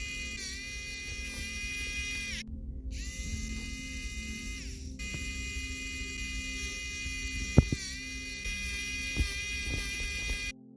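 A small electric screwdriver whirs steadily and close while screws are removed from a Nintendo Switch OLED with a faulty charging port, with a brief pause partway and a couple of small clicks.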